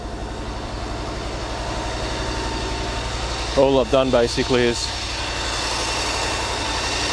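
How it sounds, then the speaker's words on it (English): A steady, low boat engine idle, set slightly high, drones throughout, with someone briefly speaking over it partway through. "set the idle a bit high just for now, but yeah, it runs."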